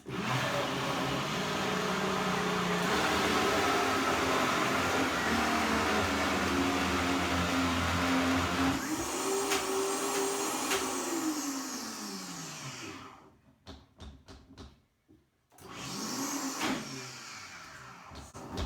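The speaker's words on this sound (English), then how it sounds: "now we're going to let the Vitamix do the work" A high-powered Vitamix blender blends soup, roaring loudly and continuously, its pitch shifting as the motor speeds up and slows, then cuts out in short bursts.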